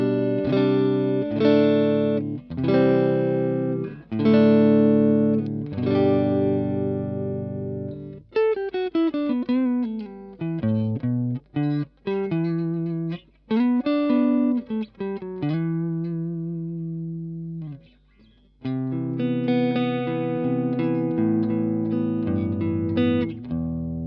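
Electric guitar played through a Fender Super 60 amp on its second channel with gain set low, giving a clean, bright tone: strummed chords give way to picked single-note lines and arpeggios, then chords return, with no talking.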